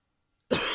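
A single sharp cough bursts out after a moment of silence, close and loud.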